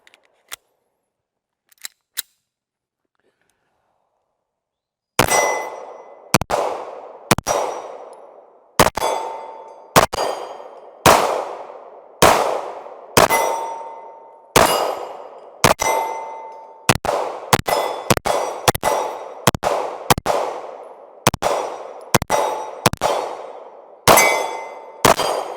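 Competition handgun with a light double-action trigger firing at targets: after a quiet start, about fifteen sharp, loud shots ring out at a steady, fairly quick pace, each with a short metallic decay, and no talking.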